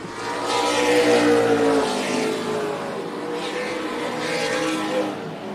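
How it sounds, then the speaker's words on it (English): NASCAR weekly-series stock cars race at Tucson Speedway, two loud roaring passes swelling and fading as the cars sweep by at close range with engines revving hard. "charging in hard to the inside of David Levitt"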